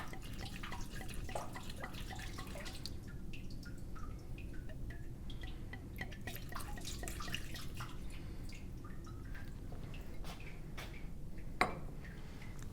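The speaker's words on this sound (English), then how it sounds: "Next, we want to pour out about half of this deionized water to make room for our sand." Deionized water poured out of a container during a soil specific gravity lab, a steady close trickle with scattered drips and small splashes, no talking.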